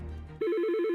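A telephone rings loudly in a radio advertisement, its bell trilling in a rapid, steady pulse that begins abruptly partway through and carries on alone to the end.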